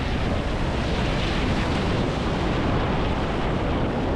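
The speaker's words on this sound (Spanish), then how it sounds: "Fíjate esas olas" Heavy ocean surf crashes continuously at Playa Mamitas beach in Tulum, a loud, dense wash of breaking waves mixed with strong wind buffeting the microphone, with no voices.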